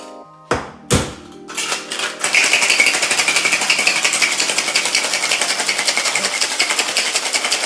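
A couple of sharp clinks and knocks give way to a steady, fast rattle of ice shaken hard in a cocktail shaker, continuing evenly to the end.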